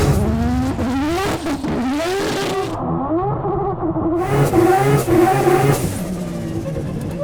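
Rotary-swapped McLaren P1 drift car engine screaming through hard revs, pitch sweeping up and down repeatedly with a brief lift-off midway, loud and continuous with a hint of tyre noise.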